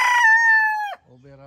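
A six-month-old yellow-legged Hatch gamefowl rooster gives one loud, close crow with a long sustained note that drops sharply at the end, followed by a brief low voice.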